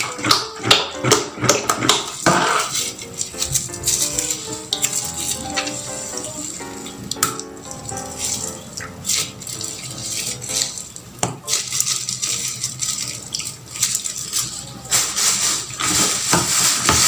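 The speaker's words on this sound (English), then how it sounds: "mixing it together now." PVA and antisol being stirred together in a container to make cold-water starch, giving quick irregular clicks and taps against the vessel, fairly loud and close, with a steady tonal background underneath.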